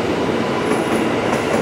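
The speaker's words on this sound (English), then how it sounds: "You do see the trains from here." A train rolls past close by at a station along a pedestrian path, a loud sustained rumble with wheel squeal and high metallic screeches riding on top.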